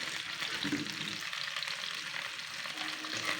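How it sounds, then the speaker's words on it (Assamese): Onion and chilli frying in hot oil while being stirred, a steady close sizzle with the scrape of stirring running through it. "এতিয়া পিঁয়াজ, জলকীয়াখিনি লৰাই 1 মিনিটমান ভাজিব লাগিব।"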